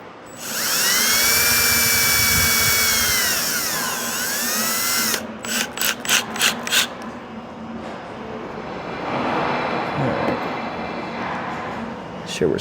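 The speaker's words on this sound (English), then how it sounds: "you want to drill out your holes for your screws" A power drill fitted with a 3/32 bit bores screw holes for mounting a YakAttack Bonafide RS117 Garmin Striker 4 transducer arm, giving a loud, sustained whine that slides in pitch, then several short stuttering bursts and a rougher grinding stretch.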